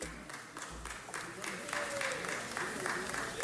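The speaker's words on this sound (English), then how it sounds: "let's give another round of applause" An audience at a city council meeting gives a round of applause, a soft, even wash of clapping that swells slightly, with voices speaking over it.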